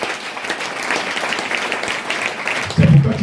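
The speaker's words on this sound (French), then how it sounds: "Est-ce que tu peux acclamer le Seigneur?" Church congregation applauding the Lord during a Christmas Eve Sunday worship service, a steady dense wash of clapping that swells slightly near the end, with voices mixed in.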